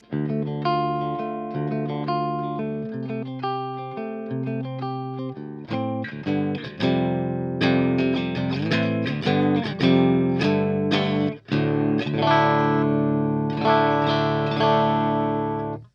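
An electric guitar plays through the clean channel of an ENGL Savage 120 mk II amp into a Vintage 30 speaker: a run of ringing chords and single notes, close and full, with no talking.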